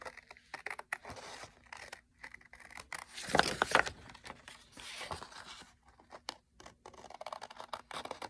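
Scissors cut through a printed paper sheet along a curved outline, giving close snips and crisp paper rustles, loudest in a dense burst midway, with a steady faint hum underneath.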